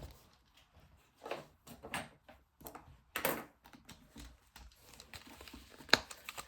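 Paper banknotes being slid and stuffed into paper budget envelopes in a binder, soft intermittent rustles and crinkles close by with quiet gaps between, no speech.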